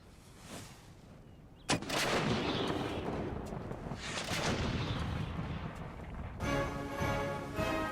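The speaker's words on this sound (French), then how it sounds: "Frédéric fait alors disposer son artillerie et déroule un barrage nourri sur les colonnes françaises." Artillery barrage roaring in the Empire: Total War game as a field battle unfolds, a sudden heavy blast followed by sustained rumbling cannon fire and dense booms, loud and continuous with a brighter crackling burst near the end.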